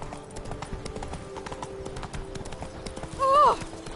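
Hooves of the horse Roach clop along at a steady trot in The Witcher 3: Blood and Wine, a continuous rhythmic patter under game ambience, with a brief whinny-like call rising near the end.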